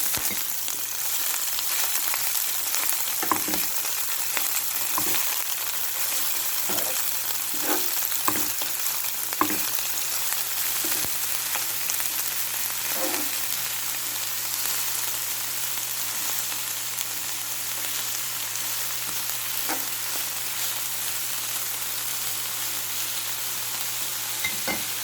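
Spinach fries in olive oil as a steady, dense sizzle, with occasional soft stirring scrapes and clicks over it, close and continuous with no talk.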